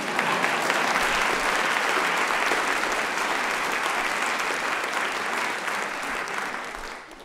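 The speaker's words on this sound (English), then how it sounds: "Y'all should be clapping for that one." A large audience at a college fall opening meeting breaks into sustained, dense applause that stays loud and steady for several seconds before starting to taper off near the end.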